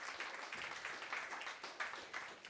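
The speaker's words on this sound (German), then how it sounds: "Ein Applaus für ihn" Audience applause at a rail transport event, a faint, steady patter of many hands clapping at a distance, with no talk over it.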